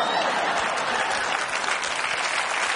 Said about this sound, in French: On laisse passer les applaudissements